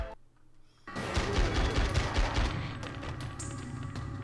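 Video-game gunfire from The X-Files: Resist or Serve erupts after a near-silent opening, a dense, loud burst of rapid shots and crashes that carries on steadily to the end.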